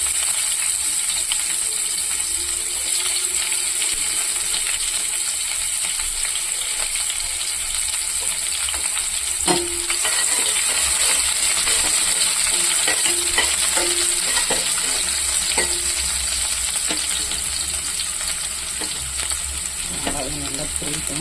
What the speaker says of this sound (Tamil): எண்ணெய் காஞ்சி வச்சு கடுகு சீரகம் போட்டுக்கலாம்